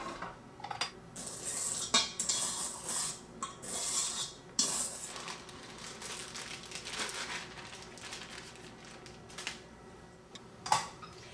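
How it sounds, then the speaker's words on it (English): A spatula scrapes down the sides of a mixing bowl of zucchini bread batter, giving scattered scrapes and clinks of utensil against bowl, with a few sharper knocks, some louder and some softer. "we're going to take off the bowl and scrape down the sides"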